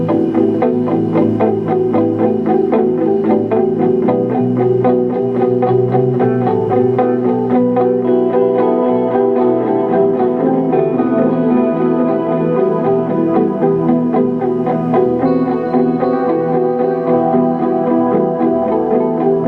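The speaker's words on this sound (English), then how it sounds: "It's just delay, no reverb at all." Distorted electric guitar plays a steady riff with repeating delay echoes trailing each note, dry and upfront without a roomy wash, continuous throughout.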